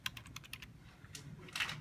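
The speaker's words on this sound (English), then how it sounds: "And type in a project name," Quiet, quick keystrokes on a computer keyboard as a project name is typed into Xcode on an iMac in a library, a short irregular burst of soft clicks with low background hum.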